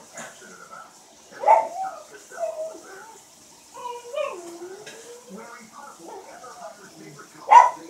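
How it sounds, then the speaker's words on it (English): A dog barks in a home kitchen while dishes are being done, with a couple of sharp barks near the start and end. Voices and soft kitchen clatter run between them. "That sound means when my dog is barking and his Uncle Babe is home."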